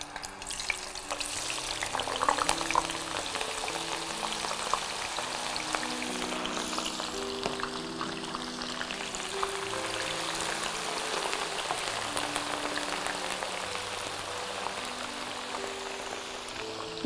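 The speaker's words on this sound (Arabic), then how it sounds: "نستناوها تتقلى." Potatoes frying in oil in a pan for a kofta dish, a steady crackling sizzle running unbroken throughout with faint stirring clicks, no voices.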